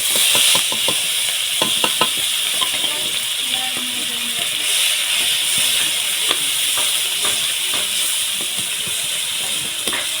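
Chopped onion fries in hot oil with kalo jeera for a Bengali tangra fish curry. A steady sizzle and hiss run throughout, broken by scattered clinks and scrapes of stirring, with no talk.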